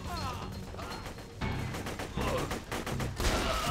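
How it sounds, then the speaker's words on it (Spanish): A new shotgun fired in Borderlands 2, several loud blasts with mechanical clanks and crashing impacts in quick succession over game sounds. "Voy a probar una escopeta nueva"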